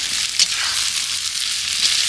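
Chicken frying in a pan for a spiced chicken kosha, a steady, close hiss of sizzling oil with no voices.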